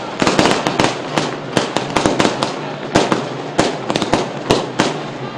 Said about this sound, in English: So firecrackers been lit here on the Antonian side.